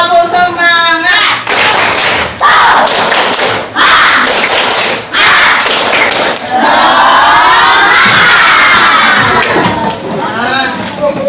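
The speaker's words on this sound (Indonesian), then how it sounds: "bareng-bareng. Tepuk semangat." Schoolchildren in a classroom perform the tepuk semangat clapping chant together, loud rhythmic claps and thumps in repeated bursts punctuated by energetic shouted group chanting, close and crowded.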